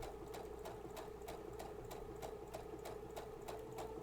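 A sewing machine fitted with an edge, joining or stitch-in-the-ditch foot stitches a line along the guide, giving quiet, evenly spaced clicks over a low steady hum with no talking.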